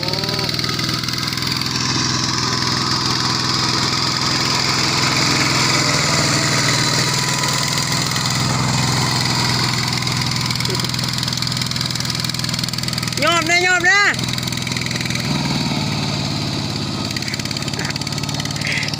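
A tractor engine plowing a field drones steadily at a medium pitch throughout, with a brief higher whine near the end; no clear talk over it.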